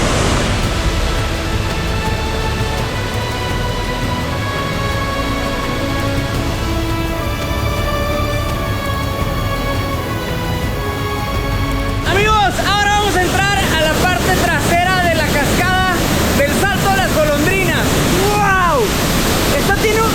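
Powerful waterfall at Salto de las Golondrinas in Canaima, Venezuela, a steady broadband roar of falling water filling the scene, with excited talking over it in the second half.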